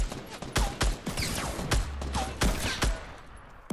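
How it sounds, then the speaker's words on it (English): Revolver shots in Fortnite crack out as a series of sharp, loud bangs at irregular intervals, roughly ten over a few seconds, mixed with other gunfire and game effects. "Revolver shot. Another revolver shot."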